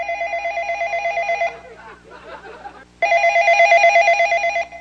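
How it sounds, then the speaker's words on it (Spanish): Samsung Galaxy S10 ringing like an old landline telephone, two loud warbling bell bursts separated by a short gap with a brief voice in between. "Mi Galaxy S10 suena como teléfono fijo"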